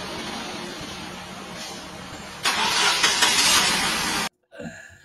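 A Ford Focus engine cranks and catches, rising to a loud steady run before cutting off abruptly, close up and without talk.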